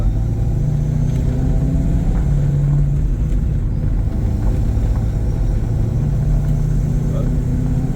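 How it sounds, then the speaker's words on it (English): Supercharged 1995 Mustang GT with a T56 gearbox and 3.73 gears accelerating hard in third gear, a loud, sustained engine drone with rising tonal whine, continuous and close throughout. "It was pulling hard in third gear."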